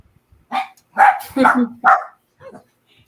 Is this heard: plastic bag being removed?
no